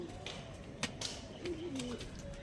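Pigeons coo softly in a short, faint burst of low throaty calls, accompanied by scattered light clicks and rustles close by.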